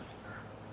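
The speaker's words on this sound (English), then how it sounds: "Oh, it's the crow bird" A crow gives a single short, faint caw at a distance, heard alone without any talking.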